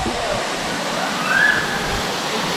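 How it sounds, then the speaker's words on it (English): Ozone Falls in the Tennessee woods pours in a steady, close broadband rush of falling water that fills the whole short stretch with no break. "Went under the waterfall."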